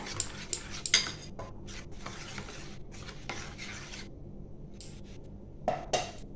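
Egg-dish ingredients, poppy seeds, mustard, curd and poppy-soaking water, being mixed by hand or spoon in a bowl, with close, irregular scraping and clinking strokes that come in short bursts and then pause.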